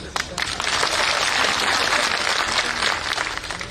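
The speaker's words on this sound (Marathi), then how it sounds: "आता ज्यांनी टाळ्या वाजवल्या" A crowd at an outdoor political rally claps in a dense, sustained burst of applause. Some voices mix in and the clapping fades slightly toward the end.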